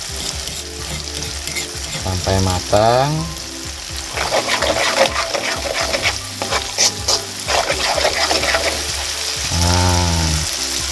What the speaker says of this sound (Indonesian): cabai sama kunyit kita goreng